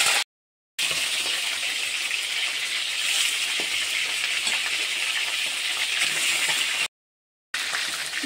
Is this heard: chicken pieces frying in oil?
yes